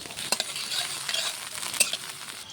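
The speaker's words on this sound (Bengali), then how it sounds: "এরপর আমি বেগুনটাকে এক সেকেন্ড মতো ভেজে নেব" Diced eggplant frying in a pan for a moment, giving a steady close sizzle with scattered stirring clinks and scrapes, no voices.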